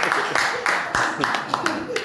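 A live audience claps together at an evening reading gathering, a broad burst of applause with sharp individual claps standing out in an uneven rhythm, close and moderately loud throughout.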